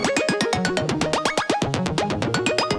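A rapid Arturia MicroFreak synth sequence of plucky, pitched notes repeats steadily while the tone and pitch sweep and shift as parameters are tweaked, loud and continuous.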